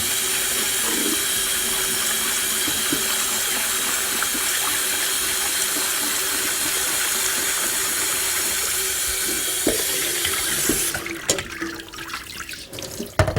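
Tap water runs steadily into a kitchen sink while lentils are rinsed, a loud, continuous splashing hiss that cuts off near the end, leaving a few small clinks and drips.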